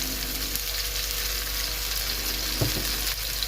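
A burger patty sizzles steadily in a pan, a continuous close hiss of frying with a faint clink partway through.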